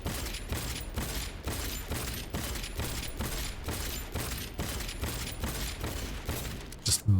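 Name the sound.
money-firing gun shooting in the video game Cyberpunk 2077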